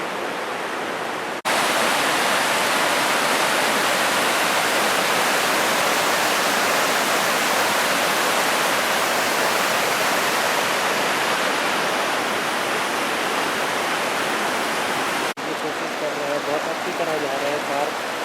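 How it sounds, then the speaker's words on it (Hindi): Fast, swollen Son river in Uttarakhand rushing past in a loud, steady broadband roar that fills the whole stretch, close and continuous, with a brief break near the end where the flow sounds slightly thinner. "आप देख सकते हैं सामने से कितना तेज़ जा रहा है पानी"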